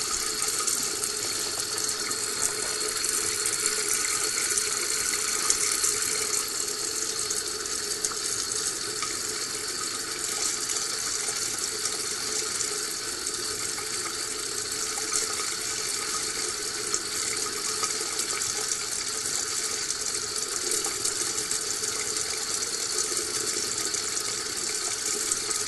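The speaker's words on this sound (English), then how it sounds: "the water is going straight from the tap down into the sink" A tap runs steadily into a lab sink, a constant close hiss and splash of water that continues unchanged throughout.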